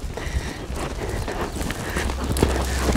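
A ridden horse moves at a canter or trot, its hooves thudding in a rough, continuous rhythm up close, with wind and movement noise filling the background.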